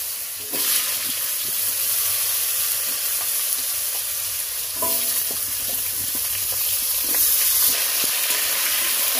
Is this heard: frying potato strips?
yes